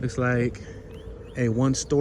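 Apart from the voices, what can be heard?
None of the usual background noises is heard.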